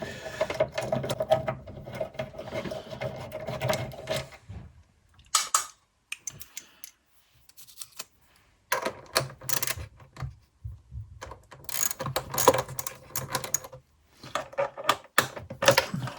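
A socket or spanner working bolts loose on the EGR pipe of a Fiat 500 Hybrid, heard as close, busy metallic ratcheting and clicking in bursts with short pauses, no talking.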